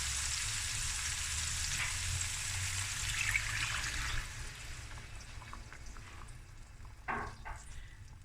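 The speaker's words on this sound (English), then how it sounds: "I'm going to add 2 cups of hot water." Hot water pours into a pot of lamb and rice, a broad rushing splash and sizzle lasting about four seconds, then settling into quieter bubbling and faint clinks, fairly close with no talking.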